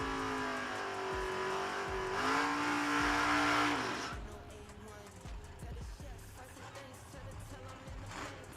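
Drag race cars launch and roar down the strip during veterans' time trials at the No Delay Nationals, a loud sustained engine howl with a rising pitch that fades as the cars pull away, leaving crowd and track ambience.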